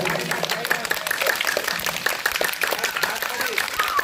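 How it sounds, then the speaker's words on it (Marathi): Children clapping quickly together at a school yoga day celebration in Rakshasbhuvan, a rapid, busy patter of many small hands, with voices and chatter running underneath throughout. "टाळ्या वाजवायच्या आता. Fast fast."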